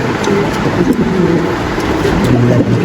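Low, soft cooing of show pigeons repeating over a steady background rumble, several birds calling close by.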